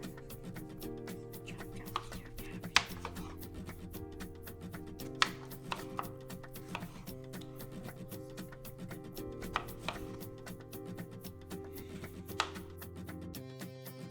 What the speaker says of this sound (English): we're going to cut up a bunch of these strawberries and throw them in the blender mixer thing